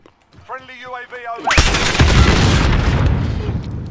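Gunfire in the Modern Warfare Shoot House map: after a moment of musical tones, a loud burst of shots kicks in and keeps up as dense, sustained firing for over two seconds.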